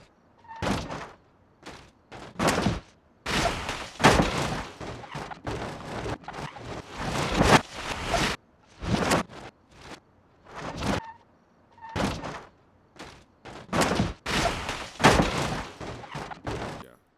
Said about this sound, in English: since we don't have a lever to open the hood, we're gonna have to go for the other plan, which is to rip it open ourselves